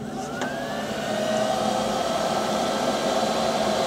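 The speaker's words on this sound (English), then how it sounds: "Now what I'm going to use is a hairdryer. I want to heat up this sensor" A hairdryer blows hot air onto an Acura TL engine coolant temperature sensor, a steady, moderately quiet whirring hum that holds constant for several seconds, with a brief click near the start.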